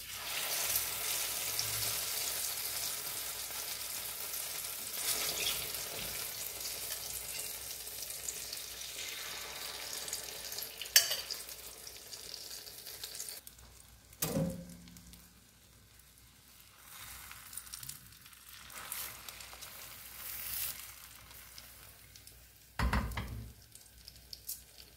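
Eggplant omelette (tortang talong) fries in hot oil, giving a steady broadband sizzle through the first half, then quieter, broken crackling with a few louder clatters and a sharp tap, no voices.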